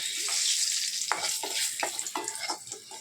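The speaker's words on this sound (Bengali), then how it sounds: "আমি ফার্স্ট এবার দিয়ে দিচ্ছি এই যে তেজপাতা" Bay leaves drop into hot oil in a pan and fry with a soft, close sizzle, with crackling pops and light stirring over a steady hiss.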